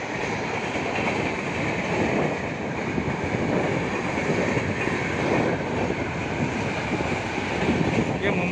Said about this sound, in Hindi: देख सकते हो यहाँ पे किस स्पीड से यहाँ पे ट्रेन जा रही है।